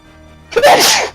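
A single loud, close sneeze bursts out after a moment of near silence, with a quick inhaled lead-in and a breathy release.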